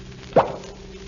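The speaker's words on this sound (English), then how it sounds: "Here, open the bottle, Miss Manville." Radio drama effect of a champagne bottle opening: a single soft pop stands over a steady background hiss, with no voices during it.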